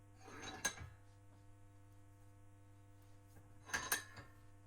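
A sheet metal hole cutter is tightened in a vise, heard as two separate short bursts of metallic clanking and ratcheting, a few seconds apart, over a steady low hum.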